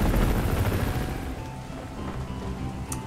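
Steady rain hisses in a night scene from the video game Crysis 3, with low rumbling game ambience beneath and a brief sharp crack near the end.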